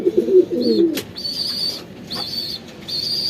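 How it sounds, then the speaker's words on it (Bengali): Hungry pigeons cooing, with a low burbling coo up close followed by repeated high, steady calls and a sharp knock, alone without talk. "কবুতর সবগুলা খাবারের জন্য পাগল হয়ে গেছে"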